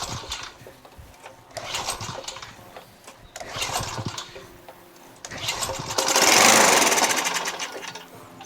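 Murray 20-inch mulcher push mower with a 5HP Tecumseh engine and a hinky throttle, running in uneven surges, chugging and sputtering before rising into a louder sustained roar near the end.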